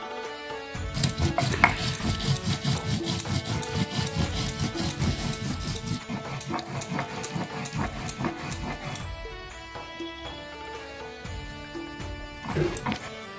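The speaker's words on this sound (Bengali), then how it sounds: "বেটে নিব শুকনো লঙ্কা" Dried red chilies being ground on a grinding stone, a steady, rapid scraping and knocking rhythm of stone on stone that runs loud for several seconds, then thins out to a few scattered strokes near the end.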